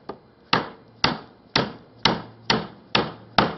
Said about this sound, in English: pounding that pin out